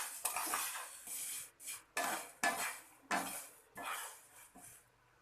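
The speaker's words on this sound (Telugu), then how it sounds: "ముందుగా సేమియాని వేయించుకోవాలి. బ్రౌన్ కలర్ వచ్చే వరకు మీడియం ఫ్లేమ్లో వేయించుకోవాలి." Vermicelli (semiya) frying in a pan over a medium flame, with a spoon scraping and clattering against the metal in repeated bursts of stirring, close and moderately loud, and no talk.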